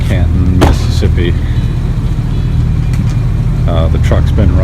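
A truck engine idles with a steady low rumble at night in Canton, Mississippi, close and continuous, while people talk over it and brief clicks and knocks come and go.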